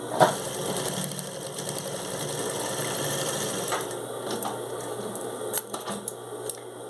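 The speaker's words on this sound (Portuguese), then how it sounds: "E passar uma costurinha de um pezinho de máquina." Sewing machine running a short seam on fabric for a beginner's zip pouch, a steady whirring mechanical buzz that holds for several seconds with a few small clicks near the end, close and alone.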